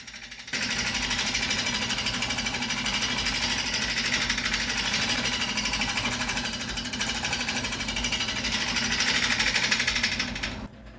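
A steady, high-pitched whirring and scraping of a scraper against the outside of an ash bowl spinning on a lathe, continuous and loud, stopping abruptly at the end.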